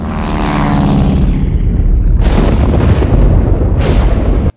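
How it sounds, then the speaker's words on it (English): A plane pitches and stalls through a violent storm with an empty gas tank, a loud continuous roar of engine and wind with two sharp bursts of thunder-like crashes breaking in before it cuts off abruptly. "The plane pitches and stalls through the storm as Tintin struggles against harsh winds and an empty gas tank."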